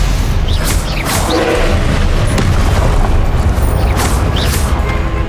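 Confringo fire-spell blasts in the video game Hogwarts Legacy, a dense wall of loud booming explosions and crackling debris running continuously for about five seconds with no pause.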